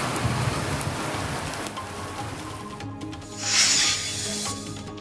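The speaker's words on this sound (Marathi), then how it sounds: "कासार शिरसी परिसरात मुसळधार पावसाने हजेरी लावली" Heavy monsoon rain falls steadily around Kasar Shirsi, a continuous dense hiss of downpour with a brief louder swell in the middle and no voices.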